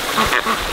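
A duck quacks briefly nearby in a couple of short, fairly loud calls.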